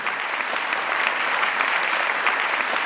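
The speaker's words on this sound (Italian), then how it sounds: "un applauso" Audience applause for the directors at the Miss Sicilia pageant in Ispica, a dense, steady burst of clapping from a large crowd that holds evenly throughout with no voices on top.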